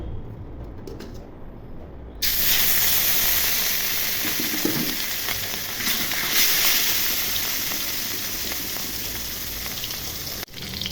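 Fish, washed and rubbed with turmeric and salt for a rohu curry, sizzles in hot oil with a steady, loud hiss that jumps up after a couple of seconds and holds to the end, no talking.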